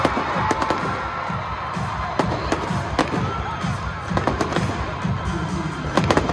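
Fireworks at a Philadelphia Union firework show boom and crackle in a dense, continuous barrage, with sharp bursts standing out over a steady roar of crowd noise.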